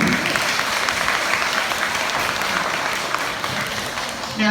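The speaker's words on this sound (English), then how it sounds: "Well done, Darren. Let's give him a clap." An audience at a sheep shearing demonstration claps steadily for the shearer, a dense, close burst of applause lasting several seconds with no voices over it.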